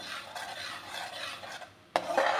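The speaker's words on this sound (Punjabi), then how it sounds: "ਸਾਰੇ ਮਸਾਲੇ ਨੂੰ ਚੰਗੀ ਤਰ੍ਹਾਂ ਹਲਾਉਂਦੇ ਹੋ ਚੰਗੀ ਤਰ੍ਹਾਂ ਪਕਾ ਲਾਂਗੇ" Spice masala with green garlic being stirred in a pan for besan gatte sabzi, a soft continuous scraping and rubbing with a sharper utensil knock near the end, close and quiet, no talking.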